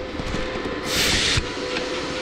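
Compressed air hisses steadily from a leak on an Amazon plasma cutter, a broad continuous rush that swells louder for about half a second midway, heard close with no talking.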